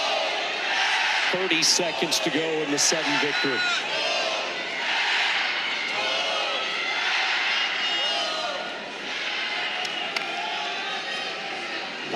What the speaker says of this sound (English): And this Reynolds Coliseum crowd trying to make their mark.